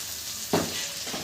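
A steady hiss of food sizzling in a pan, with a brief scrape or stir partway through. Close and fairly quiet, with no voices.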